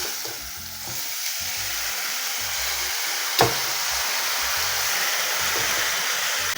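Cauliflower florets with turmeric and curry leaves are sautéed in oil in a pan, giving a continuous close sizzle with soft stirring scrapes and one sharp clink partway through, with no talking.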